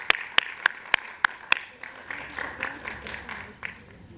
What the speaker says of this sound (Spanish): les pido un aplauso para el resto del equipo de integrantes de Conjuvecí